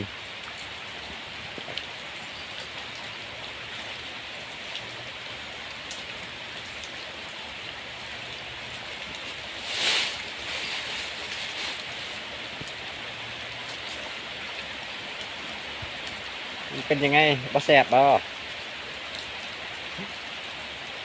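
Steady rain falls outdoors as a dense, even hiss of drops on surfaces throughout, with a brief louder swell near the middle and a short spoken exchange toward the end.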